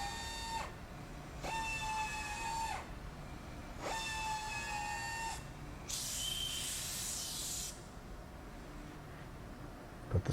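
A powered tap cuts threads into holes in a cast iron engine block, giving three similar steady whining runs, each ending abruptly, followed by a brief hissing burst; close and fairly quiet, with no talking.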